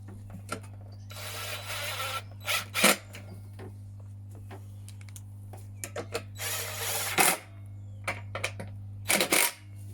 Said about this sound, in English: Just going to zap these bolts back in.